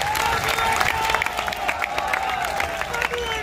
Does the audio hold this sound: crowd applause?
yes